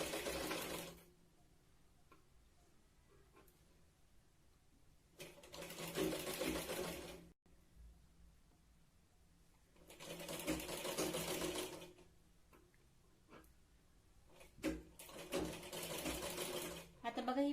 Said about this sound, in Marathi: अगदी कडेने आपण शिलाई लावतोय न खेचता।